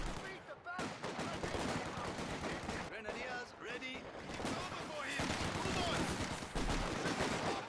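Submachine gun fire in Company of Heroes 2 crackles in dense, rapid bursts amid other gunfire and battle noise, loud and continuous throughout.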